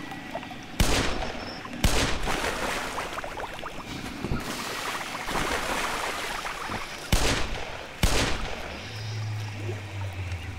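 A Magnum revolver fires in the Black Mesa video game: about four loud, sharp cracks at irregular intervals, two close together early and two more later, with busy game ambience between them and a low hum rising near the end.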